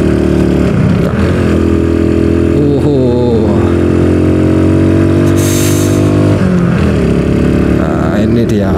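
A home-built motorcycle rides along a mountain road before dawn. Its loud, close exhaust drones steadily, with the pitch rising and falling as the rider works the throttle and shifts gears.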